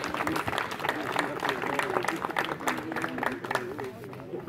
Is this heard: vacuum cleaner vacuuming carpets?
no